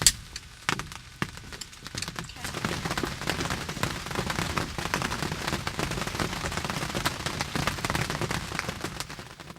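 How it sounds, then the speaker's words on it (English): Heavy rain pours down at a deer-hunting blind, starting as a few scattered hits and building after a couple of seconds into a dense, steady, crackling roar that carries on to the end with no talking. "it forevermore poured down the rain"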